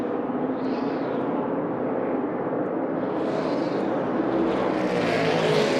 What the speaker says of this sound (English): Engine sounds off as he comes by.